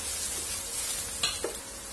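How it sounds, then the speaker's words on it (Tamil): Onions and tomato sizzle steadily in a hot pan, a soft continuous hiss with a couple of brief stirring scrapes, quiet and close. "இப்போ இது கூட கொஞ்சம் தக்காளி, ஒரு 1/4 தக்காளி நறுக்கி வச்சிருக்கேன். அதையும் சேர்த்துக்கலாம்."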